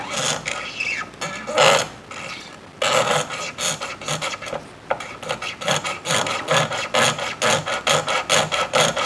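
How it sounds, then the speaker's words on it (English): A razor blade scraper is drawn along the edge of a Les Paul guitar body, a close rasping scrape repeated in quick, regular strokes that speed up toward the end. "all I have to do is butt that up to the edge and scrape away"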